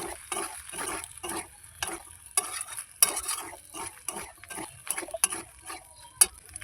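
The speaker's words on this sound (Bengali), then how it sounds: "এবার স্বাদ মতো নুন, আমি কালার হওয়ার জন্য একটুখানি হলুদ দিয়ে দিয়েছি, দিয়ে আবারও ভালো করে ভেজে নেব।" Pasta masala frying and being stirred in a pan after salt and turmeric go in, with steady sizzling and repeated scraping strokes of a spoon against the pan, close and moderately loud, no talk.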